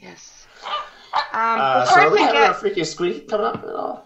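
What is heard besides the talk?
puppy barking in the background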